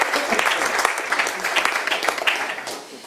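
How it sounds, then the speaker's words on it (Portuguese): A book-launch audience claps together in a warm burst of applause that holds steady for a few seconds and then tapers off, with voices faintly mixed in. "Merece um aplauso."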